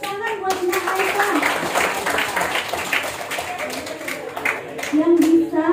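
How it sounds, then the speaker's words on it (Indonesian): A small group claps for Mbak Aisyah at a school teachers' event, brisk uneven clapping running throughout under a voice talking over it. "Tepuk tangan buat Mbak Aisyah"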